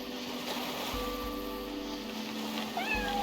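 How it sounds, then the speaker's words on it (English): A cat meows in the cozy management video game Bear & Breakfast, a few drawn-out mewing calls over a soft bed of ocean waves and ambient game sound, fairly faint and with no talking. "And I also heard a cat."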